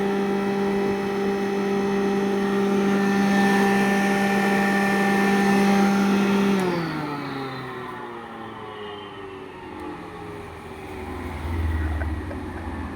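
An electric 2 HP flour mill motor hums loudly with a steady tonal whine, then winds down in pitch partway through, leaving a quieter rumble.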